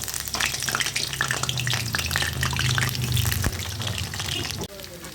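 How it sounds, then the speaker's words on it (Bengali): Cauliflower pieces frying in hot oil in a pan, with a loud, steady sizzle and occasional stirring clatter. The sizzle cuts off near the end. "এরপর আমি ফুলকপিগুলো ভেজে নিচ্ছি ভালো করে"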